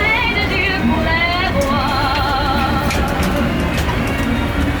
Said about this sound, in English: So we are on the Le Petit Train tour in Montmartre.